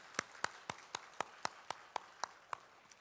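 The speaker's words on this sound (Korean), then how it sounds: "다시 한번 격려의 마음으로 박수 드리겠습니다" A church congregation applauding the choir, heard as faint, evenly spaced claps at a steady rhythm of about four per second, each sharp and distinct against a quiet room.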